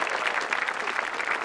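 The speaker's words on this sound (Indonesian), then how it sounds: "Tepuk tangan." A studio audience claps through a stand-up comedy set, a full, even patter of many hands that stays steady and fairly loud with no talking on top.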